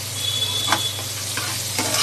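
Vegetables stirred as they fry in a pressure cooker with a little sugar, a short stretch of steady sizzling broken by three quick scraping strokes, close up.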